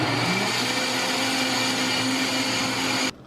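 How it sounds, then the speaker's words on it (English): A blender whirs steadily as it purées a cooked cauliflower and onion mixture into a sauce, a loud continuous motor drone that holds for about three seconds before cutting off abruptly. "I'm gonna spoon this cauliflower onion mixture into a blender"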